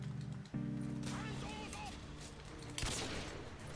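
Gunfire in the modded PC shooter IW4X (Modern Warfare 2) during trickshotting play, a sharp burst of shots that cracks out near the end over continuous game music and effects.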